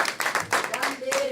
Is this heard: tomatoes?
no